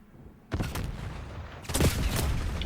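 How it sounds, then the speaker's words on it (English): Black Ops 6 match gunfire and explosive blasts, including a grenade launcher: two sudden loud bursts, the second heavier with a rumbling boom, over a dense combat background. "I'm trying to fire back at this clown with my own grenade launcher"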